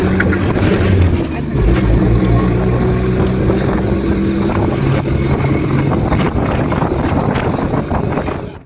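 A bus speeds along a road, its engine roaring loud and continuous with wind buffeting the microphone and rattling from inside the cabin before the noise fades at the end.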